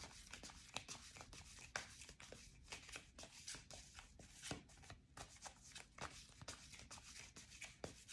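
Tarot cards are shuffled in a repeated riffling, flapping rhythm, close and soft with small sharp snaps at irregular intervals, and no talking.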